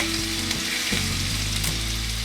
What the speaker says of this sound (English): Oh, I love the sizzling sound of the ginger and garlic.